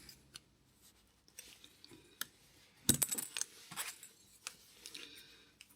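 Small squares being snipped from a sheet of ABS plastic: sharp, close clicks and crunchy cuts come in irregular bursts, with a louder cluster in the middle and quiet pauses between.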